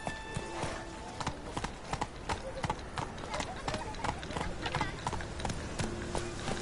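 Roach, the horse in The Witcher 3, clip-clopping at a steady trot, crisp rhythmic hoofbeats close by throughout, with game voices talking over the hooves.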